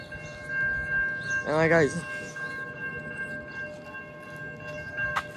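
At Princeton Junction station a train rumbles past, with steady mechanical tones, a short rising whine near the middle and a brief high screech near the end, while someone speaks briefly in the rain.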